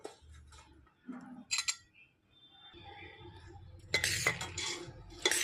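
Fenugreek seeds and raw mango for pickle being stirred in a pot, heard as scattered clinks and scrapes of a spoon against the vessel with brief rustling bursts, close and fairly quiet.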